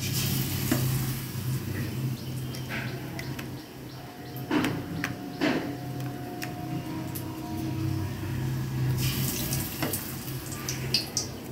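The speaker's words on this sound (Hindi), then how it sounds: "यहाँ कढ़ाई में तेल भी गर्म हो चुका है, तो अब इसको बैगन के पकौड़ी को इसमें घोल में लेकर डालते हैं।" Eggplant pakoras dipped in gram flour batter frying in hot oil in a kadhai, a steady close sizzle and bubbling throughout with a few brief clatters of handling.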